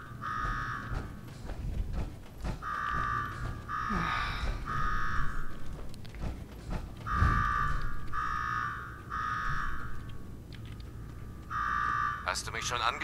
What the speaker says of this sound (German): Schalte jetzt den verdammten Alarm aus.